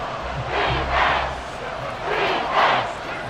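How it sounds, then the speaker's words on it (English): A large football stadium crowd at a Vikings vs Commanders game roars and swells ahead of a big third down, surging in two loud waves over a constant distant rumble. "The crowd getting into it as we come up on a big 3rd down"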